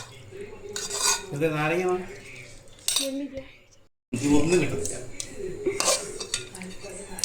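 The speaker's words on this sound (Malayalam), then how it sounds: "നെല്ലിക്ക ചേർത്ത് നന്നായി ഇളക്കി യോജിപ്പിക്കുക." A spoon stirring gooseberry pickle in a metal pot, clinking and scraping in uneven bursts with a brief silent gap in the middle.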